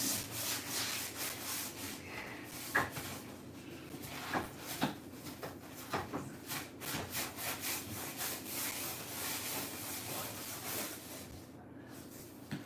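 A handheld scrubber scrapes back and forth across a dirty kitchen floor in steady, rhythmic rasping strokes, close and fairly quiet, with no talking.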